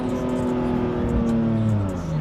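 A car accelerating on a road in France, with a steady engine drone rising slightly in pitch. The car is heard from inside the cabin, loud and close.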